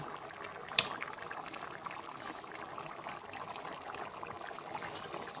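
A pot of fish curry simmers with a soft, steady bubbling and liquid burble, close and quiet, with one brief clink near the start and no voices.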